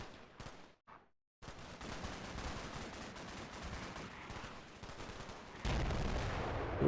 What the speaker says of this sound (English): You can see the Russian artillery is definitely nailing that spot.